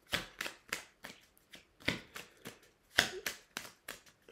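Tarot cards are shuffled for a reading in a quick series of crisp riffling bursts, about a dozen sharp flutters in an irregular rhythm, close and clear in a quiet room.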